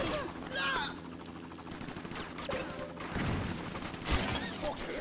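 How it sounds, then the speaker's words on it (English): Rapid gunfire in the video game Not A Hero, a dense barrage of overlapping shots and mechanical clacks running throughout, with a voice talking over the action. "I'm just going to have to shoot like crazy here and just keep reloading."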